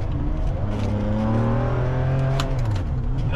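Ferrari 599 with a gated manual swap, its engine revving up and then holding steady revs, loud and close with a smooth rising whine and no voices over it.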